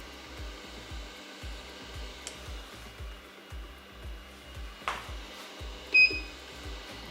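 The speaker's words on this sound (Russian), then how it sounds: "Включаем магнитную мешалку." Laboratory magnetic stirrer running while a leaching solution is prepared, a low, steady pulsing hum with regular beats, a few faint clicks and a short electronic beep near the end.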